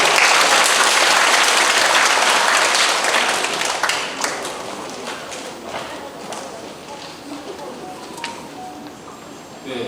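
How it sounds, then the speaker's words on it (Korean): Audience applause at a school parents' assembly, loud and sustained at first, gradually thinning out toward the end, with a few scattered claps and some murmuring. "다시 한번 큰 박수 부탁드립니다"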